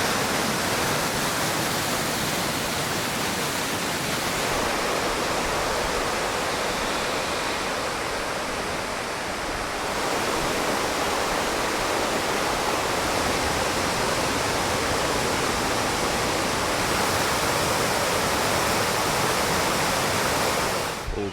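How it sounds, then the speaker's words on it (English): Branch Falls in the Great Smoky Mountains in full flow during a May backpacking trip: a dense, steady roar of rushing, splashing water, loud and continuous with no voices. "Branch Falls is sure flowing."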